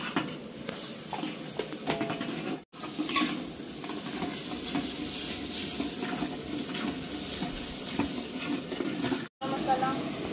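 Ginger-garlic paste sizzles and fries in a pan while being stirred for a Malvani misal, a steady crackling hiss throughout with brief clatters and two short cutoffs, no voices.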